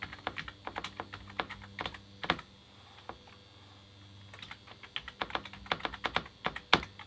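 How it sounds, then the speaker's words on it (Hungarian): Computer keyboard typing in irregular bursts of quick clicks and taps, close but fairly quiet, with a short pause in the middle and no talking. "Az a billentyű hangja."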